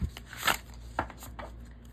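Tarot cards from an illustrated herbiary deck are shuffled by hand, giving a few soft riffling bursts and scuffs close by, with quiet handling noise in between.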